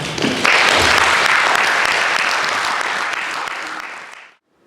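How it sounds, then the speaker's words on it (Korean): A concert audience at a traditional Korean music performance breaks into loud, sustained applause to welcome the performers, a dense steady roar of clapping that holds for about four seconds before cutting off abruptly. "큰 박수로 맞이해주시기 바랍니다"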